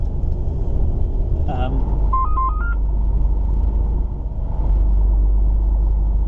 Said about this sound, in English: that was the mighty 3310 cab phone